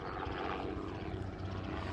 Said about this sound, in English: All week, helicopters flying overhead constantly.